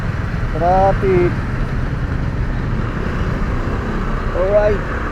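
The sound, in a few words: road traffic noise from a motorcycle rider's view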